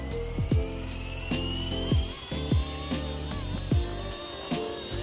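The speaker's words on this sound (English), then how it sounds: "So let's take off here. I'll show you guys what this helicopter is all about." A Blade 230s Smart V2 RC helicopter, running at low throttle and fitted with a worn servo gear set, whines as it lifts off and hovers. A steady high rotor drone is broken by repeated short mechanical thumps and clicks, close by, with no voices.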